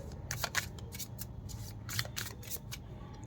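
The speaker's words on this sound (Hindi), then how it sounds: "तो चलिए कार्ड्स को हम कर लेते हैं शफल।" Tarot cards being shuffled by hand, a steady run of soft papery riffles and flicks repeating through the short stretch, close and fairly quiet with no talking.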